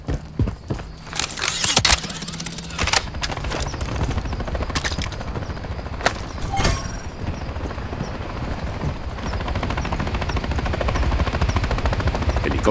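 Helicopter flying in the Call of Duty: Modern Warfare 3 reactor mission, a steady rotor drone running throughout amid battle noise, with a few sharp gunshot-like cracks early on.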